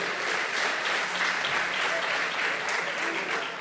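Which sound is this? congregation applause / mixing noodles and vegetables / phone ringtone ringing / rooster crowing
congregation applause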